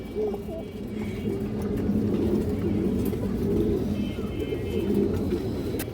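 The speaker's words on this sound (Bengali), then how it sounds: "এই জোড়াটা দেখেন দর্শক খুবই চঞ্চল কবুতর খুব শক্তিশালী কবুতর" Racing pigeons in a loft coo in low, repeated rolling calls, close and steady, over a constant background hum.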